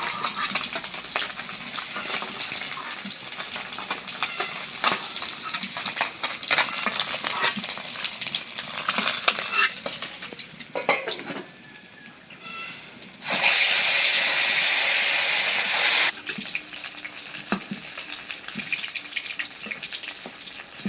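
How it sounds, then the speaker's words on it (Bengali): Fish frying crisp in hot oil in a wok gives a steady, dense sizzle with stirring, swelling into a louder, harsher burst of spitting near the middle before settling back. "হয়ে গেল মাছ ভাজা।"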